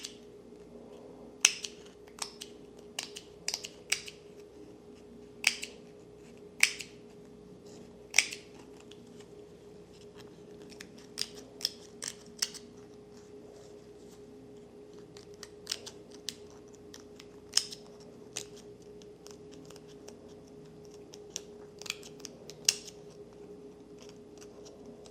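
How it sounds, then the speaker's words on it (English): Scissors snip through embroidery waste canvas on a tatreez piece in a quiet room, a series of sharp, close, faint clicks coming in irregular bursts over a low steady hum, with no voices. "cutting the waist canvas scares me so much because I always end up cutting either this or the threads"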